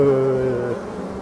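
Black bee drones from forest colonies giving a close, loud droning buzz that holds a steady pitch, then drops lower and fades slightly.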